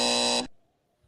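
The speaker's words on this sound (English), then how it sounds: "Double buzzer." A loud, harsh buzzer blares steadily for under half a second, then cuts off abruptly into near silence.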